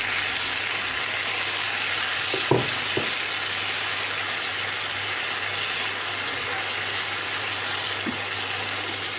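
Roughly chopped tomatoes with herbs fry in oil for a pizza sauce, giving a loud, continuous close sizzle with a low steady hum beneath and a couple of brief clinks of a utensil against the pan.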